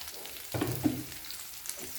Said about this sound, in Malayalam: നന്നായി ഒന്ന് വഴറ്റിയെടുക്കുക.